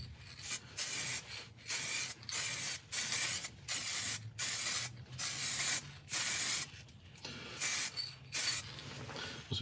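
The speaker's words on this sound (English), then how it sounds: "I'm just going to go over again with the acrylic sanding sealer" Repeated bursts of acrylic sanding sealer aerosol spray on an olive ash woodturning piece, hissing in short blasts separated by brief pauses, close and steady in rhythm with no talking.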